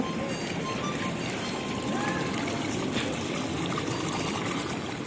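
Running mountain water on a Har Ki Dun trek in Uttarakhand flows steadily into a bottle, a constant close splashing rush with no pauses.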